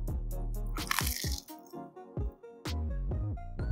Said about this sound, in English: the bread is so perfectly crunchy